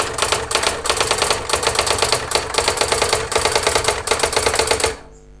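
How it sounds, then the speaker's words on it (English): Rapid typing on a Brother AX-15 electronic typewriter, a dense run of fast key strikes over a steady mechanical hum for about five seconds, then stopping abruptly into near silence. "So I'll try and type a sentence really quickly and see when I take my fingers off the keys how many keystrokes it is behind."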